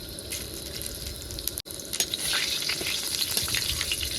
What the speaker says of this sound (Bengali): তার আগে মাছটা রান্না করে দিয়ে দিলাম শুকনো লঙ্কা তেজপাতা আর গোটা জিরা